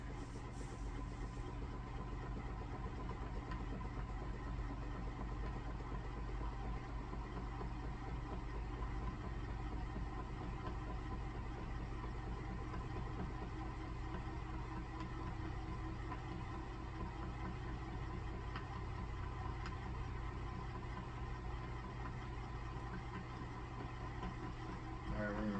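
A homemade pulse motor spins fast with a steady, continuous whirring hum and rattle that holds constant throughout, fairly faint and even in level.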